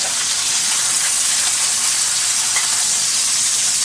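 Pork chops sizzle loudly in a frying pan with butter, a dense, continuous crackling hiss that stays close and even throughout, with no voices over it.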